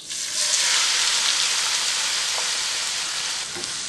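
Onions hit hot oil with green cardamom and cloves for an egg keema, giving a loud, steady sizzle and hiss that holds evenly throughout with no talk over it.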